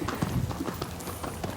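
Horse hooves clip-clop in a steady trot, fairly close and moderately loud, each footfall a crisp knock in an even rhythm with no voices over them.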